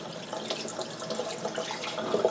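Steady running tap water splashes over a whole raw chicken as it is rubbed and rinsed in a kitchen sink, a continuous close wash with small surges and no talking.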